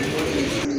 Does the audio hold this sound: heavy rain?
no